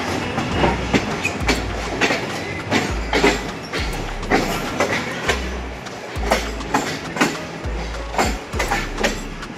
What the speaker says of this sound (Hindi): हमारी ट्रेन गुजरांवाला भी क्रॉस कर चुकी है और ट्रेन रवा दवा है।